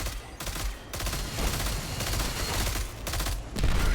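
Turret fire in Destiny 2 comes as dense, loud bursts of rapid shots, several volleys in a row with short pauses between them.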